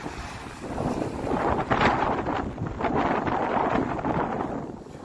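Strong wind buffets the microphone outdoors on a blustery day in Sweden, a loud rumbling roar that swells and surges for several seconds with no voices.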